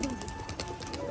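A Rajshahi pigeon coos softly among a loft of pigeons, a brief low throaty call against faint background noise.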